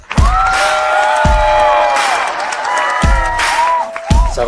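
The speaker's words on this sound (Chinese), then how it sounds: "来，我们掌声欢迎" Studio audience applause and cheering welcoming a job applicant on a talent-recruitment show, sustained clapping over music with a few heavy thumping hits punctuating it.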